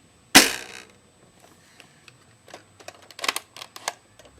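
A toy foam-dart blaster fires with one sharp, loud pop up close, followed by a scatter of small clicks and rattles as the mechanism is handled; no talking.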